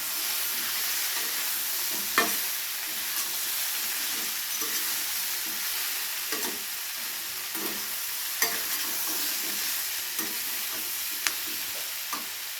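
Bitter gourd frying in a pan with spices and coriander powder gives a steady close sizzle, with spatula scrapes and taps every second or two, no voices.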